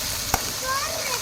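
Steady frying sizzle from sautéing in a pan, with one brief sharp knock of a utensil near the start and faint scraping stirs after.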